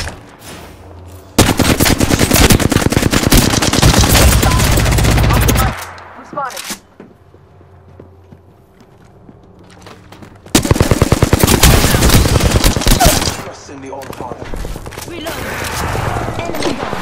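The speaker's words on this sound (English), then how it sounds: "Listen up, I'm getting shot at." Sustained bursts of automatic gunfire aimed at the player in the Apex Legends battle royale video game, two loud dense fusillades separated by a quieter lull with scattered distant shots.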